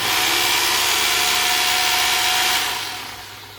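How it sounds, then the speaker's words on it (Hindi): An INGCO 800W rotary hammer drill runs in hammer drill mode with a loud, steady, harsh motor buzz up close, then winds down and fades after the trigger is released near the end. "अब ये रहा इसका हैमर ड्रिल मोड।"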